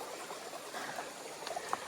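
Clear water flowing in a stream on a riverside farm, a soft continuous trickle and babble with a few small splashy gurgles near the end, fairly close and quiet.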